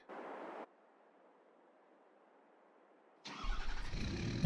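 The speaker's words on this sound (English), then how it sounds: "Okay, let's hop in our pickup truck." A pickup truck engine in Farming Simulator 22 starts up after a brief burst of noise and a quiet stretch, then settles into a louder running engine at the end.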